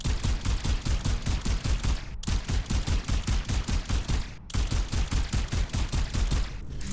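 Rapid automatic gunfire from a weapon skin in Overwatch 2, a steady fast-paced stream of loud shots that pauses briefly twice before resuming, with no talking.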